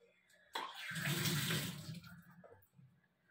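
Water pours steadily for a couple of seconds at a dinner table, a close, rushing splash that swells and then tapers off, with no talk over it.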